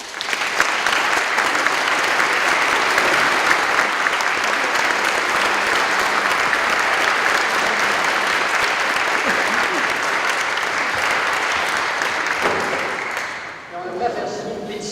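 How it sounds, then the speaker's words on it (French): Sustained applause from a large crowd at a priest's funeral, steady and dense for many seconds before tapering off near the end. "Et j'aimerais qu'on les applaudisse."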